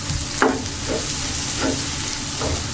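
Chopped coriander being stirred into egg bhurji frying in a pan, with a continuous close sizzle and three or four distinct scraping stir strokes spread evenly across it.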